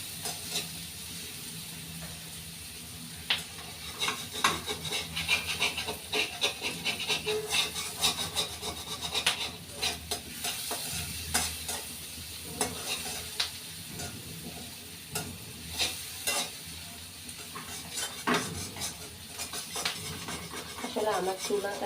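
Onions sizzle as they fry in a pan on a stove that burns unevenly on one side, with intermittent rubbing and scraping from stirring, close and moderately loud, and brief murmurs of voice now and then.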